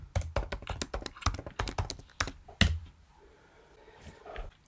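Username and password being typed on a computer keyboard, a quick run of close, crisp key taps for about three seconds, then near silence with a few faint clicks.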